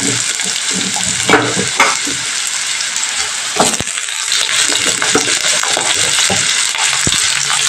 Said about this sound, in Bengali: কালো জিরেটা তেলের মধ্যে নেড়ে নিয়ে পোস্তর জন্য কেটে রাখা আলুটা তেলের মধ্যে আমি অ্যাড করে দিচ্ছি।